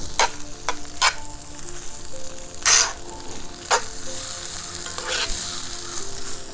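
Chopped onions sizzle in a hot pan inside a pizza oven setting, a steady close frying hiss broken by several scraping stirs of a utensil against the pan.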